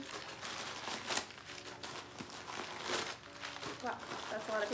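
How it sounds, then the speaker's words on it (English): Packing paper crumples and crinkles repeatedly as it is pulled out of a rose gold Disney Loungefly mini backpack, a close, busy rustling with a few sharper crackles. "Let me take out all the paper."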